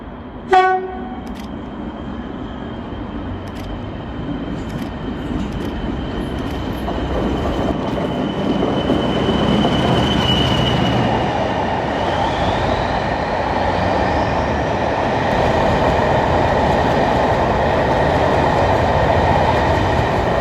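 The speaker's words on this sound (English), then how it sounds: "we're going to be watching a Class 40 pass on its way back down to London King's Cross" A British Rail Class 40 diesel locomotive rumbles past on the East Coast Main Line with a steady broadband roar that builds and holds, engine whine rising partway through, no voices.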